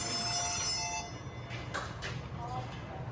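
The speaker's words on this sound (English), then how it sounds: "the phone rings again" A telephone rings faintly in the background, its tones soft and distant, mixed with quiet talk.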